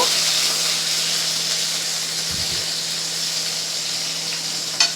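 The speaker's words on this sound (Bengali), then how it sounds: "রসুন আর কাঁচা লঙ্কাকে একটু ভেজে নেব" Chopped garlic and green chili fry in hot oil in a pan, giving a loud, steady, close sizzle that holds without a break and has no voices over it.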